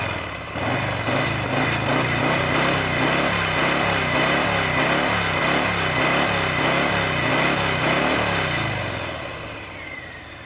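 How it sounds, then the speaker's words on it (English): Harley-Davidson Breakout motorcycle exhaust note, a deep, loud, pulsing V-twin rumble close by that swells and falls in repeated throttle blips before tapering off near the end, with no voices. "let us tell you the exhaust note of this Breakout"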